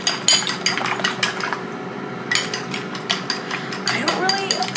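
Eggs are whipped with quick, rhythmic clinking strokes of a whisk against a bowl. The strokes come close and loud, pausing briefly partway through before the beating resumes.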